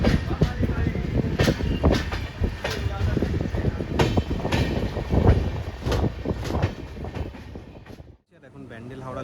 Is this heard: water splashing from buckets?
no